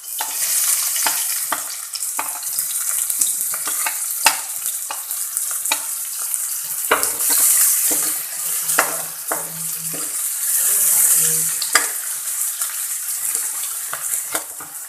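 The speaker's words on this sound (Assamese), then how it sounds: "তেলখিনি গৰম হৈ গ'ল এতিয়া ইয়াত দি দিম কাটি থোৱা পিঁয়াজখিনি" Chopped onions frying in hot oil in a heated wok, a steady loud sizzle with stirring scrapes and clinks of a utensil against the pan throughout, close up and without speech.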